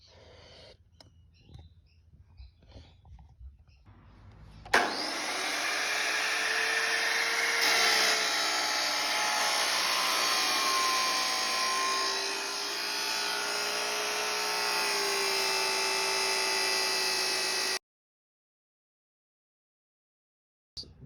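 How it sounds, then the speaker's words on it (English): Power tool cutting through a 9-degree steel pipe bend during a turbo and external wastegate fabrication job; faint handling noises, then a loud, steady high-pitched whine for about thirteen seconds that shifts pitch slightly under load before stopping abruptly. "I think I'm going to cut this 9-degree bend a little bit shorter through there"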